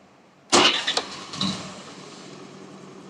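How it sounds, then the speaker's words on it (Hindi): A Honda Activa 5G or Dio BS-4 scooter engine cranks and catches with a sharp burst, then settles into a steady idle that continues close by, with no talk. "तो हम गाड़ी को स्टार्ट करते हैं"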